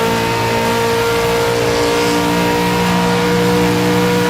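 V8 race cars roar around Monza in a racing video game, a dense continuous engine drone holding loud and steady with no breaks.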